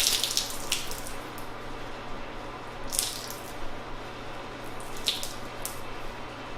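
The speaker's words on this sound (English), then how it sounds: "we're going to go ahead and wring out the towel and see how much water comes out" Water wrung from a GT Shine GT Twist microfiber drying towel, a soft steady trickle and drip with a few brief splashy bursts, fairly quiet and close, with no talking.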